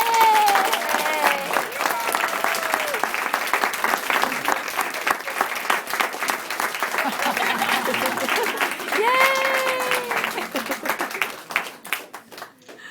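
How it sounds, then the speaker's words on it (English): An audience at a kindergarten class gathering claps for the children, with long, dense applause and a few high excited voices and cheers mixed in, before it tapers off at the end. "I think these guys deserve a round of applause"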